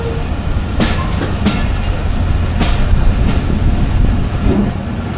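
The Kanchan Commuter passenger train runs on rails in Bangladesh, heard loud and close from on board, with steady rumble and rhythmic clickety-clack of wheels over rail joints.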